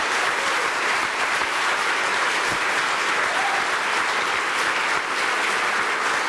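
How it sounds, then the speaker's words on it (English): A community crowd at a political campaign launch event breaks into sustained applause, dense and steady clapping filling the room throughout with no voices on top. "That's worth a round of applause."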